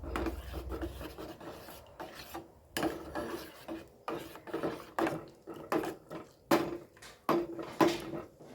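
A spoon scrapes and stirs tender coconut pudding mixture in a pan, making repeated close rasping strokes in an uneven rhythm with brief pauses between them and no talking.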